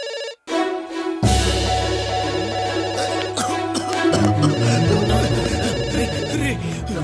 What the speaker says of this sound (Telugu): ఫోన్ రా. ఎవరు చేస్తుంటారా?